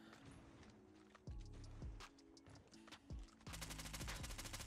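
An AS Val rifle fires rapidly in the mobile shooter Call of Duty Mobile, short bursts of quick suppressed shots with bursts of action noise between, ending in a fast sustained stream of fire.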